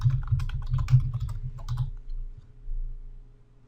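Keys clatter in quick bursts as a name is typed on a computer keyboard into an Excel 2013 dialog, the clicks close and crisp for about two seconds before a quiet pause.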